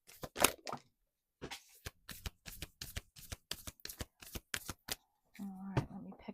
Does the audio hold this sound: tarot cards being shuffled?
yes